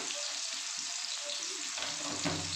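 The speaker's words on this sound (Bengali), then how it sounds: "লবণ আর হলুদ দিয়ে আমি একটু আলুটাকে অল্প বেশি কড়া করে ভাজবো না" Potatoes fry in hot oil with salt and turmeric, giving a steady bright sizzle with light scraping of a spoon, close and fairly loud throughout.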